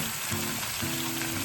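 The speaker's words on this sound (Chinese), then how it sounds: "中火煎至金黄" Carp frying in hot oil in a pan over medium heat gives a brief, steady crackling sizzle, fairly quiet and with no voices.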